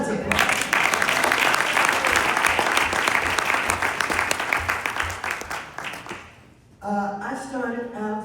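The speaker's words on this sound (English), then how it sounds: "Come on, let's applaud." An audience at an MLK Day speech breaks into loud, sustained applause that fills the room for several seconds, then fades as a voice begins speaking over a public address system.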